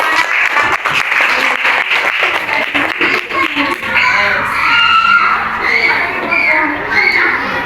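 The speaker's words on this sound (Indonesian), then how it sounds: "Beri tepuk tangan untuk" A class of children claps in a burst of rapid, uneven applause, then breaks into excited shouting and chatter, loud and close throughout.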